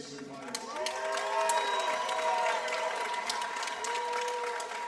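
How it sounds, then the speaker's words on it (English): Crowd applauding and cheering after a kickboxing bout, a steady wash of clapping and cheers from the arena audience, with a ringing tone running underneath. "how about a round of applause for these two fighters?"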